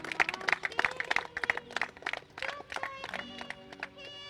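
An indoor audience at a patriotic Raksha Bandhan event gives steady, enthusiastic clapping, dense rhythmic hand claps that carry on throughout, fairly close and loud, with musical tones rising near the end.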